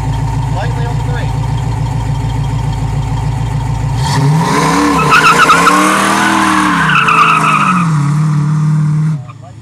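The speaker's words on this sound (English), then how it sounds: "That was a good burnout." A 1966 Ford Mustang idles with a deep rumble, then revs hard into a burnout, tires screeching loudly with wavering pitch for several seconds before the noise abruptly cuts off; voices are present alongside.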